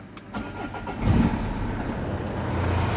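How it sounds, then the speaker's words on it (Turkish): A car engine cranks and catches around the one-second mark, then settles into a steady, rumbling idle close by. "arabayı çalıştırıyorum"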